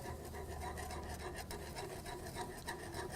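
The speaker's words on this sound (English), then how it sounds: "And whisk it as this is going in, otherwise it's going to clump." A whisk scrapes and rasps continuously inside a saucepan while blending a Swerve sweetener mixture for mint chocolate chip ice cream, a quiet, steady scratching close by with no talking.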